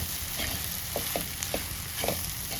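Pieces of leftover flatbread fried in a pan are stirred with a spatula, giving a steady sizzle broken by several short scraping strokes, close and alone with no talk.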